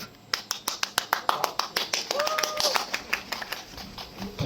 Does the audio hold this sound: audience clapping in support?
yes